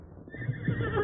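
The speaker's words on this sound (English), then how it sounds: "You hear horse. Come plenty fast." A horse neighs and whinnies in an old-time radio western drama, a close, loud whinny rising over faint background with no talk.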